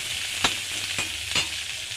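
Onions fry in a pan, browning, with a constant close sizzle and three quick spoon strokes scraping through them.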